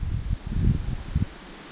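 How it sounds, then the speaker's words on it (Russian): Gusts of wind rush through an aspen forest in brief, rough bursts close to the microphone, fading to a softer steady hush at the end. "Поднялся ветер, так сильно шумят."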